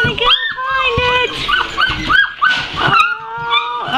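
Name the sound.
six-week-old puppies yipping and whimpering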